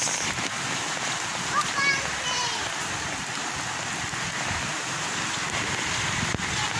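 Heavy monsoon rain falling in a Konkan village, a dense, steady hiss of downpour close by throughout, with a faint bird call briefly audible.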